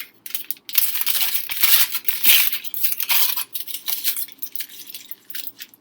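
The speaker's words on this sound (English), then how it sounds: "take some used aluminum foil, and I'm just going to crumple up a few pieces of it." Used aluminum foil is crumpled by hand into balls, loud crinkling and crackling bursts coming in irregular waves with brief pauses between squeezes, close up and alone.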